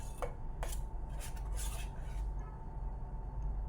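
A spoon scrapes and clinks against a pot as blended curd is stirred into pumpkin pachadi, a Kerala sadya dish, with a few faint metallic taps over a low steady background hum.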